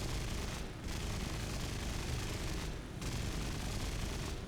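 Sustained cannon and machine-gun fire at BF-110 aircraft in the flight combat game War Thunder, a loud continuous roar broken by two brief pauses.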